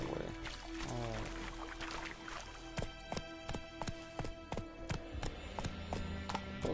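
Horse hooves clip-clop in The Witcher 3 video game, a run of sharp, evenly spaced hoofbeats growing denser over a soft game soundscape, without speech.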